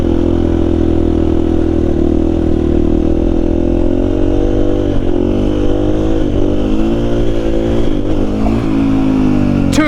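A KTM-powered Honda XR80 motorcycle rides for the whole stretch, its engine a steady loud drone with wavering revs and a few sharp throttle blips near the end; no voices.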